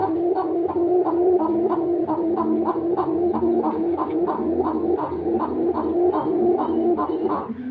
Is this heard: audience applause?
no